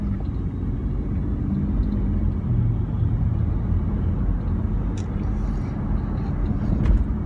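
Interior rumble of a car being driven, a steady low engine and road drone throughout with a few faint clicks and no speech.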